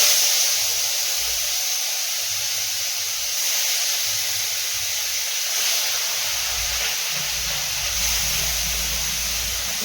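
Fish frying in oil in a wok, a loud continuous hissing sizzle lasting the whole stretch, steady and close, with low rumbling underneath.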